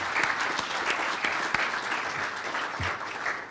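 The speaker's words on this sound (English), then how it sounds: "So if I just get a round of applause for the" Conference audience applauding steadily and continuously, a dense even patter of many hands clapping throughout, with no talk over it.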